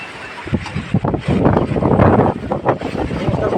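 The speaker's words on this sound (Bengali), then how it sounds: "মোবাইলটা ধরতে পারতেছি না বাতাসের কারণে।" Strong wind buffets the microphone at a rough seashore by a deep-sea port, loud gusty bursts and rumbling blasts that rise and fall irregularly throughout, with no voices.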